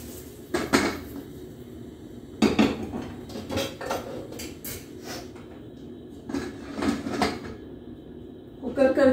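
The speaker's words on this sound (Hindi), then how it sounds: "बस अब इसको हम डाल देंगे इसमें और कुकर का ढक्कन लगा देंगे" Metallic clanks and clatters as a pressure cooker lid is put on, several sharp knocks in a busy kitchen, close by, with a voice speaking in between.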